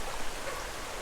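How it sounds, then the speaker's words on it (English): A big babbling brook, a burn in the Scottish Borders glen, rushes in a steady broadband wash of flowing water, close and continuous throughout the short moment with no voices. "A big babbling brook."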